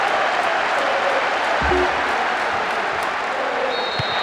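Stadium crowd in Winning Eleven 10 football game, Manchester United vs Real Madrid, a broad, steady roar of opposing fans booing, dense and continuous at a distance, with a short low thump partway through.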